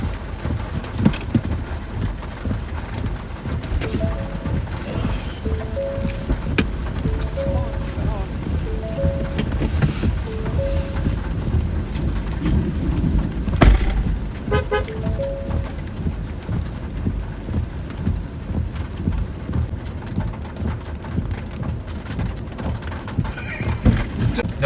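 An Arkansas thunderstorm brings steady rain hissing across the whole stretch, with rumbling thunder and a sharp crack midway, while people talk over it.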